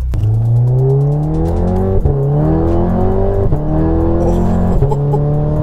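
A Stage 2 Volkswagen Golf R accelerates hard, its engine note climbing steadily and dropping back at three quick gear changes, loud and continuous with no talking.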